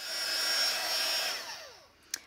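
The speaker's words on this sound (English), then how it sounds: "I'm just going to give it a quick going over with the heat gun just to make it dry a bit quicker" A heat gun blows steadily over an ink-stamped journal page, a close, loud whooshing hiss that fades out near the end and ends with a brief click.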